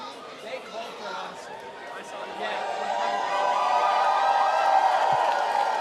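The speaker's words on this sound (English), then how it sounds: "Crowd cheering for Jameson Go." A stadium crowd cheers and chatters for Jameson at a racing event with big hits and fireballs, the roar building steadily and swelling louder toward the end.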